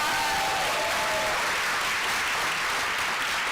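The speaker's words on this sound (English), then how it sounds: "How about another round of applause for Malcolm Pinata?" Sustained applause from a crowd at a town hall meeting on saving Medicaid, a steady dense wash of clapping that fills the whole stretch without a break.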